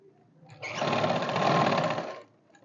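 Sewing machine running a straight seam on salwar fabric, a steady fast mechanical whir of stitching lasting under two seconds, close and clear with no talking.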